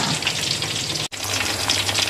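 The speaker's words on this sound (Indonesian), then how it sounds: "Ini lagi goreng mendoan ini pemirsa. Tak goreng empat-empat." Tempeh fritters (mendoan) fry in oil in a pan, making a loud, steady, close-up sizzle and hiss that cuts out for a split second midway.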